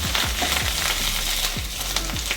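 Rohu fish roe bhujia with onion frying in a pan while a spatula stirs it through, a loud close sizzle with regular scraping strokes roughly every half second, no voices.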